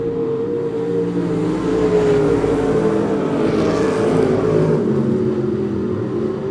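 Race cars at Monett Motor Speedway, a dense, loud engine roar with a sustained high whine as cars run down the backstretch, steady and continuous with a slight swell midway.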